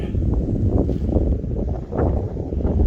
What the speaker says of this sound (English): Boy, that wind is blowing up here